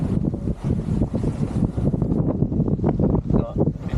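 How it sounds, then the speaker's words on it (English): Wind of 15 to 16 knots rushing across a sailing yacht on the south coast, a steady buffeting gusty roar hitting the microphone throughout. "Got 15 to 16 knots of wind."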